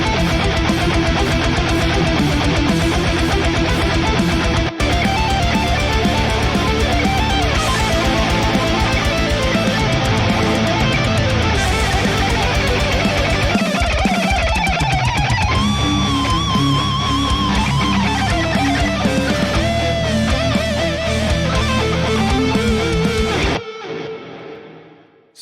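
A lead electric guitar runs through the JST Toneforge Jeff Loomis amp plugin, playing a loud, sustained distorted melodic line with bends and held notes, closely miked and alone, ending in a short fade.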